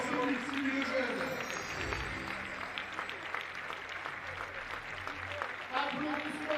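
A crowd at an athletics meeting in Sotteville, France applauds steadily after a women's adapted-sport 100 metres, the clapping continuous and moderately distant, with an announcer talking over it.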